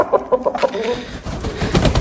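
A large Korean-breed rooster of about 4.5 kilograms with long tail feathers gives short repeated clucking calls close by, several quick pulses followed by louder rustling and scuffling, with no talk.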